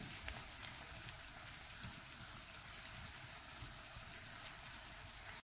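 Vermicelli cooks in a frying pan with a little water, giving a steady, soft, continuous sizzle and bubbling at low volume with no talk.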